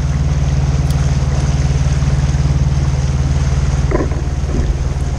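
A 1976 JonkerPaans displacement motorboat runs at speed, its engine a steady low throbbing drone under wind and water noise, continuous and fairly loud with a brief splash near the end.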